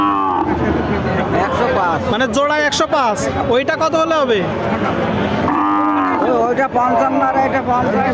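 Cattle at a busy cattle market in Jessore district, Bangladesh, lowing loudly and repeatedly close by, with someone talking over the calls and crowd murmur behind.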